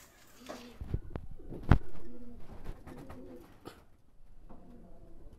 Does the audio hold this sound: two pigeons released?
yes